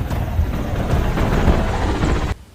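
A helicopter able to carry a 4,000 kg load gives a steady, loud low rotor and engine roar that holds for about two seconds, then cuts off sharply.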